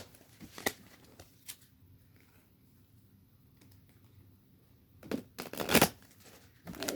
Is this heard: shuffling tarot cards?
yes